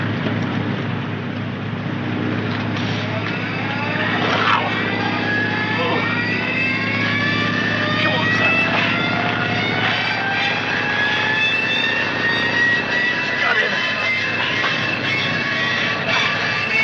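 A vintage airplane engine on a 1942-era runway is hand-cranked and started, building into a loud, steady drone with rising whine-like tones, sustained and close with no talking.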